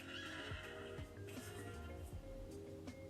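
Horse neighing and whinnying in an AI-generated scene, several loud close whinnies with sliding pitch over a steady background bed, with faint hoof clip-clop.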